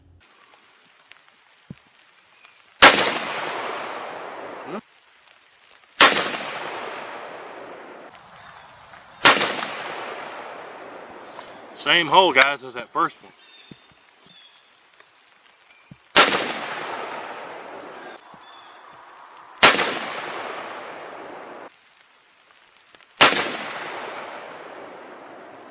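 Six sharp shots from a 7mm Remington Magnum rifle firing Core-Lokt ammunition at 100 yards, evenly spaced a few seconds apart, each a loud crack with a trailing echo; someone speaks briefly between two of them.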